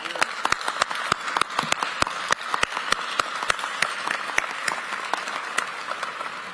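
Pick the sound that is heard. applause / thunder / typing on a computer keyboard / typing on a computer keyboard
applause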